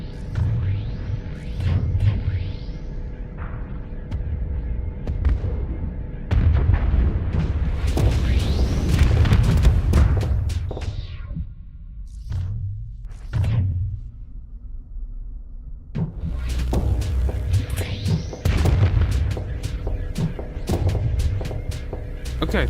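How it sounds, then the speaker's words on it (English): Iron cannons fire and explosions burst in a video game, a string of loud booms and rumbling blasts that come in clusters with short quieter gaps between them. "I thought the iron cannons fired faster for some reason"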